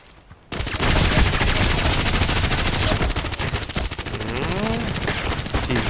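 Rapid, sustained machine gun fire from the shooter game Contract Wars rattles loud and close in a continuous stream of shots for several seconds, with a short pause at the start and no talk.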